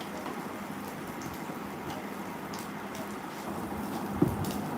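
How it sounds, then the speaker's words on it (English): Steady rain falls outside, a soft continuous patter heard alone at moderate level, with one faint knock near the end. "Yeah, it's raining right now."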